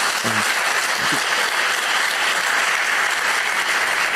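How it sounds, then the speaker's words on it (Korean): A church congregation at a Friday evening service applauds, producing a continuous loud wash of clapping. A brief low vocal sound rises under it near the start. "우리 형님들한테 큰 박수를 보내주시기 바랍니다."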